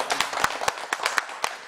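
Sparse hand clapping at a church gathering, a handful of separate crisp claps spaced irregularly over a second or two, close and fairly soft.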